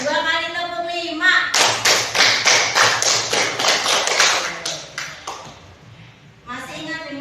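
A classroom of children claps in a quick rhythmic pattern, two rounds of five, loud and near, preceded and followed by children chanting.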